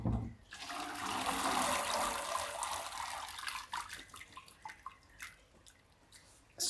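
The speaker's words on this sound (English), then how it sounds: "Strain that off as much as possible, and then put it straight in the chilled water." Water strained off blanched celery pours in a loud, gushing rush for about three seconds. Sporadic drips and small splashes follow as the celery goes into chilled water.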